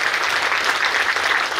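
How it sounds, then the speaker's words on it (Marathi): A temple audience at Shri Gopalkrishna Mandir gives a guest spiritual leader a sustained round of loud, dense clapping, steady and unbroken for under two seconds. "सर्वांनी टाळ्यांचा कडकडाट करूया"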